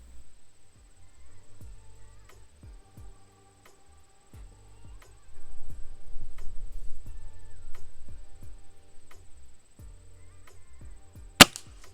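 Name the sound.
Gamo Hunter Extreme Pro air rifle shooting JSB Hades pellets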